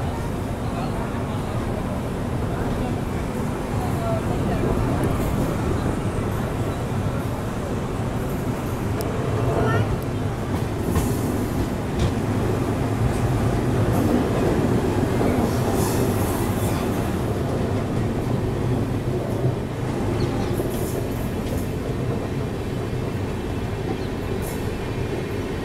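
A Bangalore to Chennai double decker train of Indian Railways runs steadily with a continuous rumble, rattling carriage noise and faint wheel clatter, heard from inside throughout with occasional louder swells.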